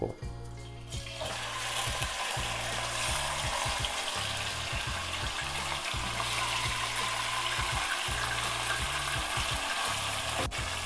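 Steady, continuous sizzling of meat for goulash frying in a hot pan, close and fairly loud, with occasional stirring scrapes and no talking.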